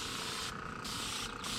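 An oil product is sprayed onto redwood siding in a steady, close hiss that keeps up with two brief pauses over a second and a half.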